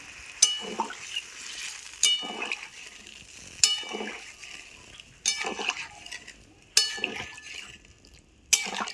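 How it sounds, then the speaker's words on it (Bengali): Water poured into a hot pan of spiced cauliflower and potatoes for a thin curry, splashing and sizzling in several separate close bursts with quieter bubbling between them. "যেহেতু ঝোল করব সে কারণে বেশি করে জল দিয়ে দিলাম।"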